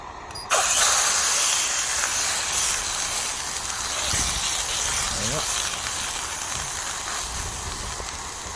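A camping gas stove on a Peak District wild camp hisses loudly and steadily while a steak cooks over it, a close broadband roar that starts abruptly and carries on under faint occasional sounds.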